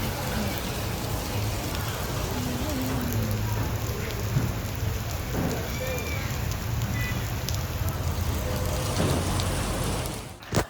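Heavy rain pours steadily and loudly over a temple entrance area in Thrissur, a dense continuous wash with faint rumbles that suit distant thunder, ending in a couple of sharp knocks near the close.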